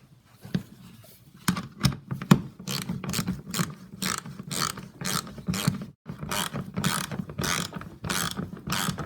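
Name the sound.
ratchet tightening bolts on Toyota RAV4 fog light housing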